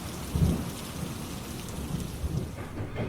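A severe thunderstorm sound effect, with heavy steady rain and low rolling thunder rumbling throughout, loud and continuous with no voices.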